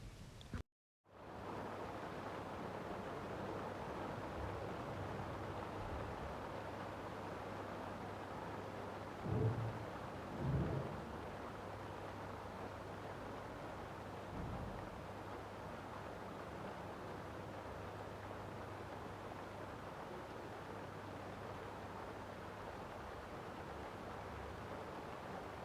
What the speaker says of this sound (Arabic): نخليكم تسمعوا شويه الصوت تاع الشتا